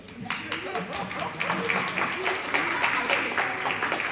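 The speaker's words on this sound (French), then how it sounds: "Oui, applaudissez-la parce que..." An audience at an intergenerational community gathering breaks into applause, clapping that swells and holds steady at a moderate distance, with a voice talking over it.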